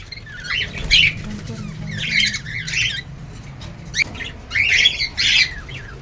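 Lovebirds squawk in short, harsh bursts, several rapid calls in clusters with brief pauses between, fairly close and loud, at a pet shop.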